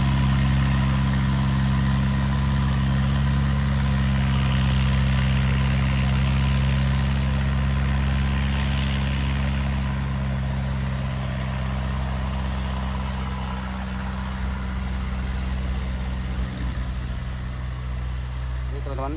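A heavy truck engine bound for Sinabang drones steadily and loudly while climbing a steep hill in Indonesia, a low, constant rumble that holds for the whole stretch with little change.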